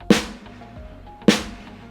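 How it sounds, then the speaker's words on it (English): Sticks strike a snare drum twice, roughly a second apart; each hit is a sharp, bright crack with a rattling tail that fades into quiet. "this is a snare drum here, I'm gonna hit that,"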